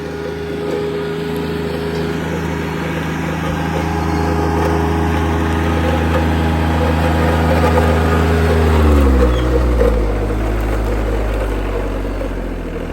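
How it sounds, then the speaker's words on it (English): Rural King RK24 compact tractor engine droning steadily at close range as it drives between trees, with its pitch dropping near the end as it slows. "this thing maneuvers through it very easily, and it's one of the nice things about having a compact tractor on a smaller property"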